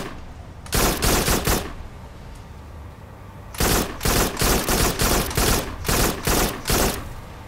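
Gunfire from the FarPoint VR video game played with the PSVR Aim Controller: a short loud burst of rapid shots, a pause, then a longer series of sharp bursts in quick rhythm, close and clear.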